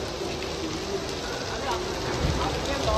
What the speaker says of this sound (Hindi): बारिश आ रही बहुत है गाइस